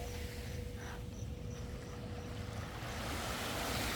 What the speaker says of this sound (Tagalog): Nakatayo dito sa dagat.